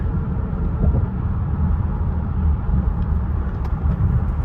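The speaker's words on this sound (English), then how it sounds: "Wind noise is pretty substantial in this car, gotta say." Wind noise inside a 2023-2025 Nissan Pathfinder while driving, a loud, steady low rumble and rushing roar filling the cabin without pause, with no talking.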